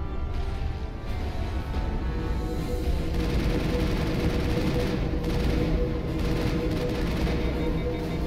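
Gunfire in the video game Mass Effect: continuous dense rapid shooting and booms blending into a constant loud roar of combat for the whole stretch, with no voices.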